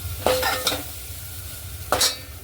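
Masala roasting in oil for a village-style fish curry being stirred, two bright scraping strokes of a spoon through the sizzling paste over a low hiss.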